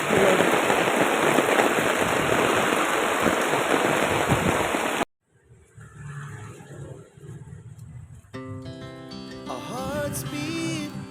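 Heavy rain pours in a dense, loud hiss for several seconds, then cuts off abruptly, followed by quiet background and some music.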